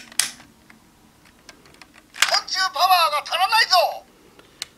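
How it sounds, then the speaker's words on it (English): A B-Commander toy from Juukou B-Fighter lets out a short electronic error sound, a burst of warbling, pulsing synthetic tones lasting about two seconds, with faint clicks and handling noise before and after. "if you press the button down here, you'll get that sound, which is basically an error sound"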